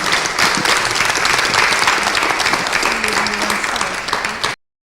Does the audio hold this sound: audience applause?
yes